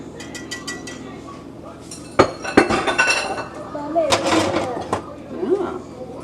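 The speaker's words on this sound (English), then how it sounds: "at this point now, I'm gonna drop the sausage back in" Sausage going back into a pan of biscuit gravy, heard as sharp metallic clinks and clatter of utensil against pan, a couple of louder knocks followed by softer scraping and clinking, fairly close.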